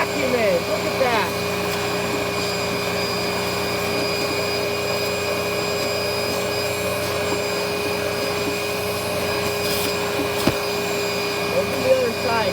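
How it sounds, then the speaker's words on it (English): Dirt Devil handheld vacuum cleaning a dirty air conditioner filter, a steady high-pitched whine and airflow roar running unbroken throughout, with occasional faint scraping bumps and a voice talking over it. "Look at how powerful this vacuum is."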